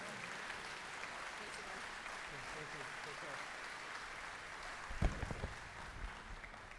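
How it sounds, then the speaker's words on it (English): Faint, distant audience applause at an AMO gathering for the Ontario NDP leader, a soft continuous patter with a few closer thumps near the end. "Please give Andrea a big applause for being here today."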